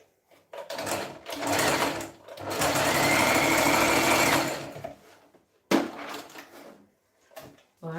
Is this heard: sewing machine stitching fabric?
yes